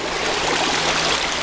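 Flooded river water rushing at a gold prospecting spot, a loud, steady broadband wash of flowing water heard close and alone, without speech.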